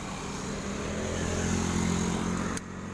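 Yamaha Lexam motorcycle engine idling after a full engine rebuild, a steady close rumble with low harmonic hum that holds even and then drops slightly near the end.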